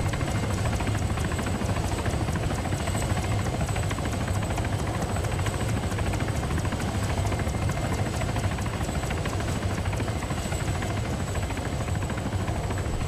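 A helicopter hovering right overhead in the Arma 3 Altis Life video game drones loudly and continuously, a steady rotor-and-engine roar with a faint high whine running through it, no voices.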